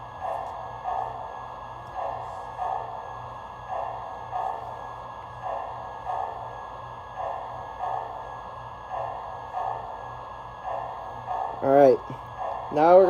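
Lionel Thomas & Friends Ready-To-Play toy train set playing its background sound loop: a steady, repeating chuffing rhythm with a constant hum, moderately loud and close, ending in a couple of brief sharper rising tones.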